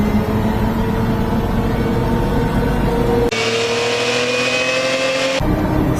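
A supercharged mini-truck does a burnout, its engine roaring loudly and steadily at high revs with a rising whine, the tone shifting abruptly partway through, close and continuous with no talk.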